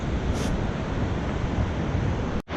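Fast-flowing river water rushes far below a high vantage point in Kashmir, Pakistan, making a loud, continuous roar with a slight windy hiss that drops out briefly near the end.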